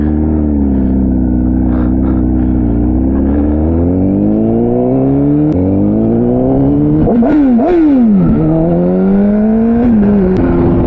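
A motorcycle fitted with a Translogic QSXI quick shifter and Domino XM2 quick action throttle pulls away from idle, engine note rising and dipping through several rapid upshifts, loud and close throughout.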